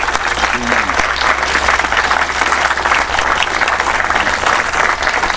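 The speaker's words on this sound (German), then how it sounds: "der Applaus jetzt im Auditorium hier in Oberkotzau könnte nicht größer sein" Sustained, loud applause fills an auditorium in Oberkotzau, a thick, even roar of many clapping hands with a few voices mixed in.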